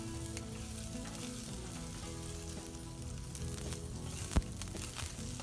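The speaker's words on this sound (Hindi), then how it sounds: "saute for a while, and now add करेंगे चॉप्ड जिंजर" Chopped garlic sautéing in a hot pan as chopped ginger goes in, a steady close sizzle running throughout with a single sharp clink near the end; no talking.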